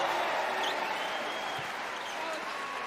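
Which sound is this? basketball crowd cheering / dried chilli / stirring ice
basketball crowd cheering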